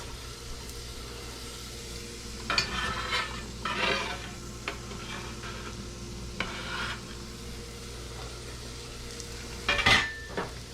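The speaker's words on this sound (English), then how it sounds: "so I'm going to go ahead and throw in my onion" Chopped onion sizzles in half-melted butter in a pan, with a steady low frying hiss, scattered scraping stir sounds and a spoon clinking against the pan near the end.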